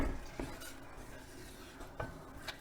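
Soft scraping and clinks of a utensil against a very big pan as a lamb meatball and feta pasta bake is mixed, quiet and close, with a few sharper knocks.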